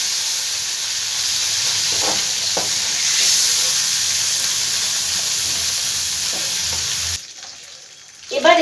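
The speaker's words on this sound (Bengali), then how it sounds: "এর থেকে বেশি আর আমি ভাজবো না চিংড়ি মাছটা" Shrimp fry in hot oil for a taro-stolon dish, giving a loud, steady, close sizzle with a few crackles that cuts off sharply near the end.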